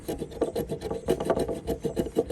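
Rhythmic scraping strokes of a hand plane shaving epoxy-coated salvaged redwood countertop boards, quick and evenly repeated, close and fairly loud.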